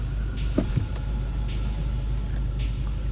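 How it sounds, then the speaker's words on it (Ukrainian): Power windows of a Passat CC 2.0 hum shut inside the car, a low steady motor drone under the engine's rumble, with a faint click or two near the start. "Закриваємо всі окна"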